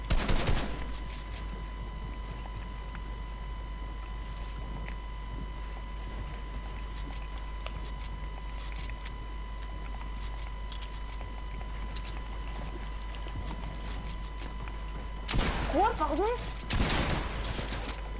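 Fortnite gunfire as rapid bursts of shots, mostly quieter in the middle and louder in clusters near the start and end, with a steady tone and players talking throughout.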